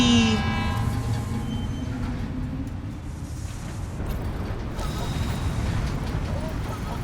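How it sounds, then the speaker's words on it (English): A monorail ride in the video game Death Stranding 2 gives off a steady rumbling rail drone with faint creaks and a brief horn-like tone at the start, heard close and continuous. "I guess we could load the vehicle on there too. And get on monorail."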